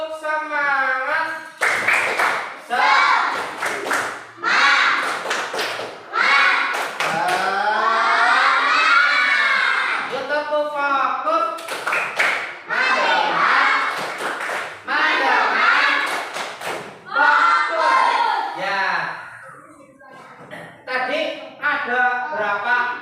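Schoolchildren in a fifth-grade classroom perform a tepuk semangat clapping chant, bursts of rhythmic group claps alternating with young voices chanting and a teacher talking.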